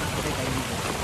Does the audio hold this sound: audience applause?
no